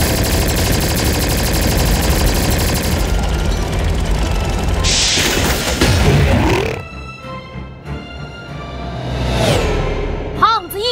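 Cartoon gunfire from soldiers shooting at a distance in an animated mecha series, heard as loud rapid bursts and whooshes over dense effects and music, giving way to pitched sweeping effect tones near the end.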